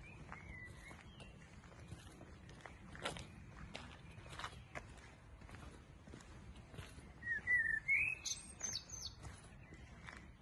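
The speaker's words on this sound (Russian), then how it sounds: "Вот как птичка поет." Small birds singing outdoors near houses in Austria, faint chirps and a clearer warbling phrase partway through, heard over footsteps and low background noise.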